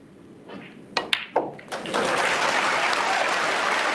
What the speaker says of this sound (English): So, the applause is for the likelihood of this session ending 4-all, barring a snooker